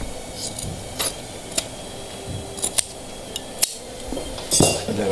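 Scissors snip through upholstery fabric on a dining chair being reupholstered, a few sharp, scattered cuts with light clinks and rubbing between them, close and fairly quiet.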